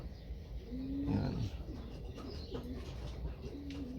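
Racing pigeons coo in a loft, soft low throaty calls that come up several times, close and fairly quiet, over faint chirps and background noise.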